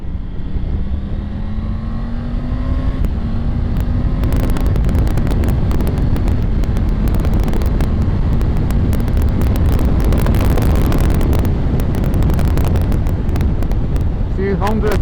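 A 2023 Triumph Tiger 900 Rally Pro motorcycle accelerating as the throttle opens, its engine note climbing steadily under heavy wind roar buffeting the microphone.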